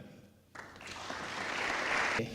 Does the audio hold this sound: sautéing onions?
no